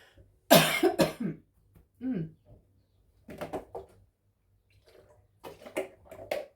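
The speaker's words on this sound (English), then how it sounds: "I'm going to cough again." A loud, harsh cough bursts out near the start, followed by a few quieter coughs or throat sounds spaced out with pauses between them.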